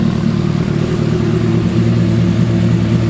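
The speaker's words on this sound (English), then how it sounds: "This bike is absolutely ridiculously loud." A boosted Kawasaki H2 motorcycle idles very loudly at low revs on its first start-up, a constant deep rumbling drone close by with no break and no talk.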